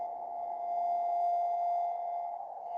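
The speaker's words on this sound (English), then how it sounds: "The offending signal, by the way, it's very strong, and it's not really sine wave." A strong interfering signal near 14.06 MHz comes through a ham radio receiver as a loud, steady, slightly rough tone with overtones, held unbroken from start to end.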